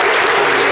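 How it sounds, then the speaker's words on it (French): A French television studio audience claps in a brief, dense burst of applause, close and loud, with no voices over it. "j'aimerais qu'on applaudisse bien fort pour tout"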